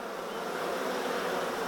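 Honey bees at an opened hive with the supers being rearranged make a dense, steady buzzing swarm drone, close and fairly loud, without speech.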